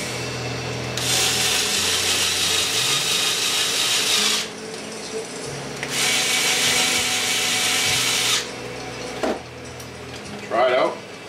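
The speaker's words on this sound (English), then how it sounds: "Screws in there and screw them in." Screws are driven into an HPI Savage RC truck with a power tool, two long buzzing whirring bursts separated by pauses, followed by brief clicks and handling noise.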